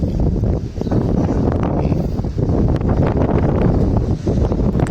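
Heavy wind buffets the microphone in a continuous low rumbling roar, gusting slightly but never letting up, with no voices.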